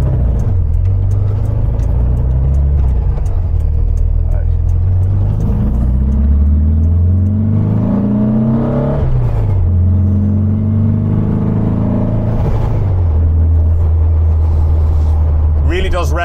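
A 1974 VW Super Beetle with a 1915cc engine revs while driving, the air-cooled motor rising and falling in pitch through several rev swells, loud and close, with a steady rumble and a person talking over it.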